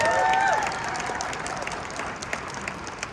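A school jazz all-star concert audience applauds and cheers for the Jazz Ambassadors band, a brief burst of clapping with a few whistles that fades gradually over three seconds.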